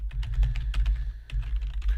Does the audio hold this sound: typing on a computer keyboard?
yes